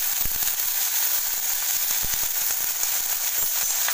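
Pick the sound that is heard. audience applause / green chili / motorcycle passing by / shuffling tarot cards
green chili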